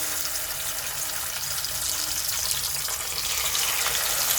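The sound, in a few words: pabda fish frying in hot oil in a wok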